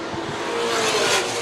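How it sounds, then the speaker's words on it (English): A pre-1970 Le Mans sports racing car with an unhealthy, rough-running engine, its loud broadband roar holding steady with a slight swell near the end, close by and with no voices over it. "Anwar Levy's car, not sounding very healthy and not looking too straight"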